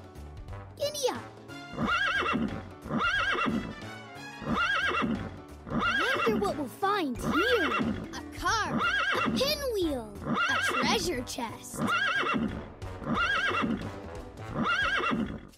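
In a Daniel Tiger children's video game, a cartoon horse gives repeated whinnying neighs mixed with clip-clopping hooves. The calls come in regular bursts, loud and close.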